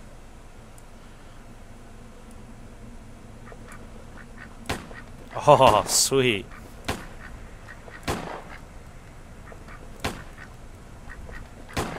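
Duck quacking in the video game Little Inferno, a short burst of loud quacks in the middle, with scattered clicks and a voice speaking briefly nearby.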